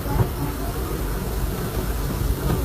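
The Disneyland Railroad train rolls along its track, a steady close rumble with low rattling and a soft hiss, no clear voices.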